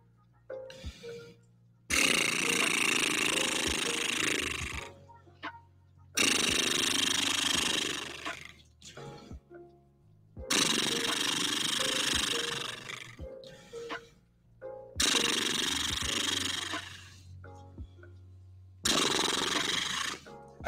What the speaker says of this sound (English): Put your lips together and just blow air and flap.